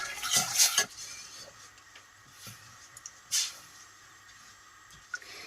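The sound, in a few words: stirring sugar syrup in a pan over low flame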